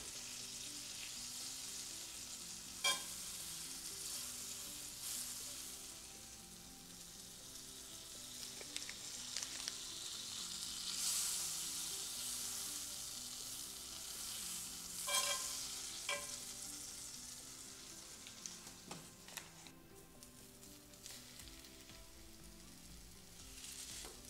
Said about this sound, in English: Let it fry until it's golden brown on each side.